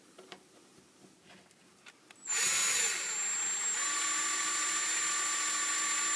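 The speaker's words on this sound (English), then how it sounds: "And then I'm going to get a drill and try not to drill a hole through my lovely new workbench." Power drill boring a hole into a new workbench: after quiet handling noises, the motor whines up suddenly and loudly and keeps a steady high-pitched drone to the end.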